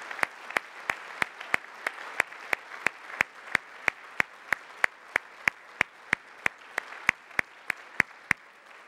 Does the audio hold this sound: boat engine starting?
no